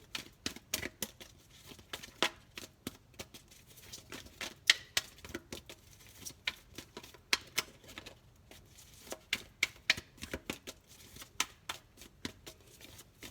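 Oracle cards are shuffled by hand in a steady run of crisp, rapid riffling ticks, close to the mic and soft, continuing for several seconds with short breaks.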